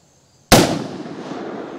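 A single gunshot firing Hornady XTP ammunition cracks sharply out of near silence, then a long echoing decay rolls away over the next second.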